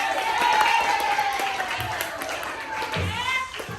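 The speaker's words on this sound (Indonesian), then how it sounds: "Beri tepuk tangan." A classroom of students claps together in a loose burst of applause, with voices talking and calling over the clapping throughout.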